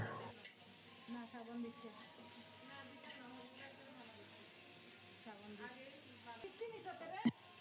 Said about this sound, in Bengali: সাথে সাথে ফুলকপিগুলো দিয়ে দিলাম স্বাদ মতো লবণ দিয়েছি নেড়ে চেড়ে ঢেকে ঢেকে কপিগুলোকে খুব সুন্দর মতো কষিয়ে নেবো